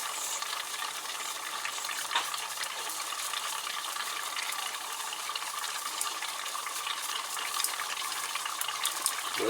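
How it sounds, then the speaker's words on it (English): Steady hissing, bubbling and crackling of liquid nitrogen boiling violently, with small pops and spits scattered throughout, fairly close and continuous, during watercooled RAM testing. "a lot of the boiling and spitting that you see will stop."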